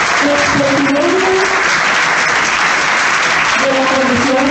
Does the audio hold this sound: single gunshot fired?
no